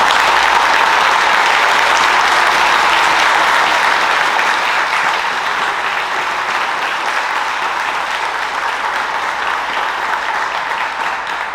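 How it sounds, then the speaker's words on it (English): A crowd at a police youth academy graduation ceremony applauds the police department and instructors, loud continuous clapping that fills the room and tapers only slightly over about eleven seconds. "let's all please give the police department, the command staff, the instructors, all the police officers a round of applause at this time"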